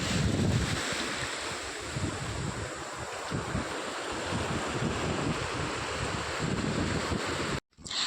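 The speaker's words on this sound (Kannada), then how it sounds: "ಬೀಚಲ್ಲಿ ಅಲೆಗಳ ಸೌಂಡ್ ಕೇಳ್ತಾ ಇದ್ರೆ ಸಖತ್ ಖುಷಿ ಆಗ್ತಿತ್ತು." Ocean waves at Kodi beach in Kundapura roll in as a loud, continuous roar of surf mixed with gusty wind buffeting the microphone, cutting off abruptly near the end.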